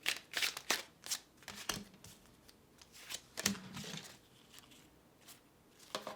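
Tarot cards being shuffled by hand: repeated brisk riffling and slapping bursts in uneven clusters, close and fairly loud, with no speech.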